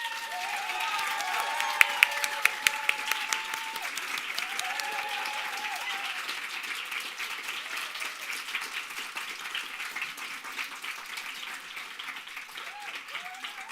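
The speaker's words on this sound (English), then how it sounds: "give them one more round of applause." Sustained audience applause at a writers' award showcase, steady dense clapping filling the room for the whole stretch, with a few louder individual claps near the start.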